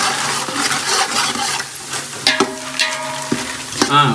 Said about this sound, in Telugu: ఉల్లిగడ్డ వేగింది మమ్మీ.